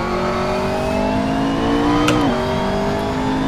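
McLaren MP4-12C GT3 race car in the Assetto Corsa game downshifting: a loud, steady engine drone with a sharp pitch drop and brief blip as the gear changes, continuous and close.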